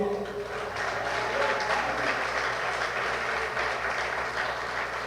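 A church congregation applauds the Lord steadily and loudly throughout a worship service, a dense wash of applause with voices underneath.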